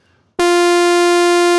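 A Prophet synthesizer sawtooth tone with the low-pass filter fully open starts abruptly after brief silence and holds as a loud, bright, buzzy sustained note rich in overtones.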